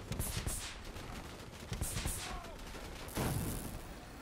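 Bursts of gunfire in the Call of Duty Black Ops 3 video game, sharp repeated volleys coming in clusters with short gaps, alongside other game sounds.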